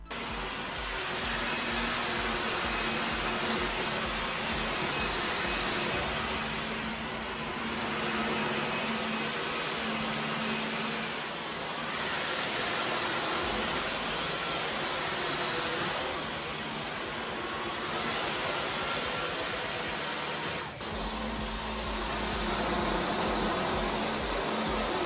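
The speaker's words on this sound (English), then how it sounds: "If you're interested to see how well each vacuum cleaner works," Dyson cordless vacuum cleaners (Gen5detect, V12 and V15) run continuously while picking up debris, producing a loud, steady high whine and airy rush that swells and eases in slow cycles, close by and with no talking.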